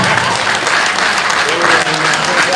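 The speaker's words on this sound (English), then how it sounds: "A standing ovation from our VC, please. If you are not clapping, you are wrong." A university workshop audience gives a standing ovation, loud dense clapping sustained without a break, with voices faintly audible beneath the applause.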